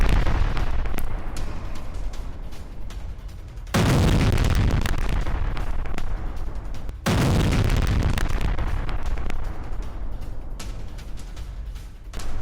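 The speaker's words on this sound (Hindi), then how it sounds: "पोस्ट पर भीषण बमबारी शॉट्स के साथ self propelled artillery regiment post तबाह हो गई है।" Heavy bombardment strikes a self-propelled artillery regiment post in the war in Ukraine: two deep, powerful blasts land a few seconds apart, each followed by a long rolling rumble over constant background noise.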